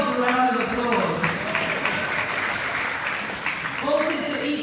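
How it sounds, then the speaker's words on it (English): Audience applause at a live poetry reading at a literary festival: a dense, steady burst of clapping and crowd noise, with a voice speaking over it at the start and again near the end. "give yourselves a round of applause"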